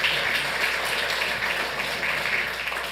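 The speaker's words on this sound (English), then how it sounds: "Let's give her a big round of applause." Applause from the audience at a Santa Ana city council meeting, a steady, moderately loud patter of many hands clapping throughout with no talk over it.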